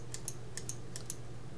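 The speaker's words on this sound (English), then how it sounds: "So I just keep clicking." Quick mouse clicks while modeling a cup in Blender 2.5 at a computer, about six light, close clicks in loose pairs over a faint steady hum, no voices.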